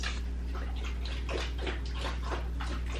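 A dog laps water from its bowl during a meal, a quick, steady splashing and slurping rhythm that stays close and continuous for the few seconds.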